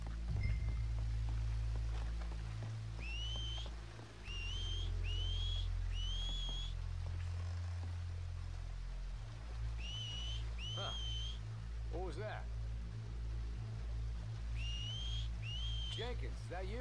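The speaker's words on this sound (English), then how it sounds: "Make a noise, whistle or something." A character in Red Dead Redemption 2 whistles in repeated two-note calls to draw enemies out, several short bursts over rumbling game ambience with a low background drone.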